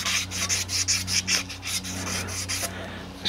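Crocus cloth rubs against a part of a Universal vise during cleaning and repair, with about nine quick, rhythmic back-and-forth strokes, close and steady, then a pause, and no speech.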